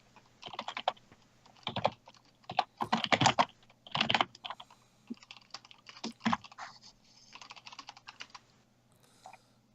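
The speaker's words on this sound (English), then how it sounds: "This typing is loud." Loud, close clattering of computer keyboard typing during a Dungeons & Dragons game session, irregular rapid bursts of keystrokes with brief gaps, continuing for several seconds and trailing off softer at the end.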